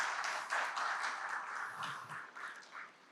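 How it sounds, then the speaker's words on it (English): Faint, scattered clapping from a small audience at a business talk, a soft patter of hands that thins out toward the end. "maybe a round of applause for Avlesh to put all of this together"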